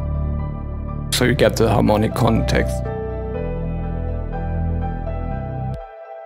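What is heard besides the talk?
Reese bass synth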